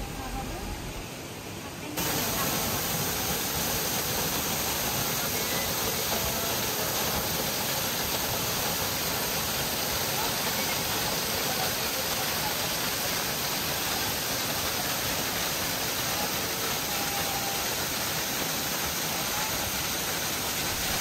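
Steady broadband roar of a roughly 4-meter waterfall at Leuwi Asih, heard close and loud throughout, a continuous rushing wash of falling water with no pauses.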